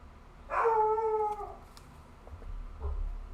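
A dog lets out a single drawn-out, tonal whining howl-like bark lasting about a second, fairly close, followed by quieter low rumbling.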